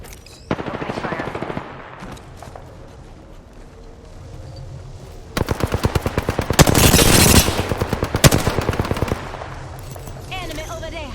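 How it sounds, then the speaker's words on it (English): Rapid automatic gunfire in the video game Apex Legends, with short bursts early, then a long, loud sustained volley of shots with brief pauses, under game sounds and occasional voices. "Opening fire."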